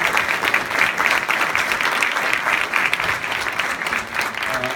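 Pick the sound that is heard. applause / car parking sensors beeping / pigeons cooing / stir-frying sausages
applause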